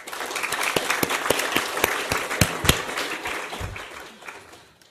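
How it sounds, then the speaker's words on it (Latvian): An audience at a Latvian nature conservation seminar on habitat and species protection applauds, sharp individual claps building into steady applause that gradually fades out over several seconds. "bet viņi ir pelnījuši aplausus"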